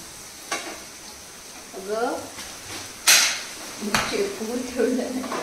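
Onion bhaji frying for vada pav at a roadside stall in Dapoli, with sizzling oil, clanks and a sharp scrape over a busy background, and people talking briefly nearby.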